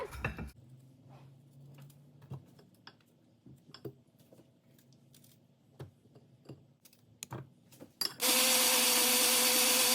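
Soft clicks and taps, then a mixer grinder abruptly whirs on, loud and harsh, grinding spice paste for crab rasam, for the final couple of seconds.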